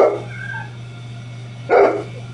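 A dog barks at puppies shown in a video played in a wine shop, giving two short yelping bursts, one at the start and one near the end, over a steady low hum.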